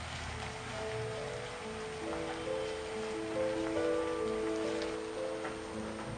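Chopped onions fry in hot oil in a pan, a soft, steady crackling sizzle close by, with faint scraping and tonal hum in the background and no talking.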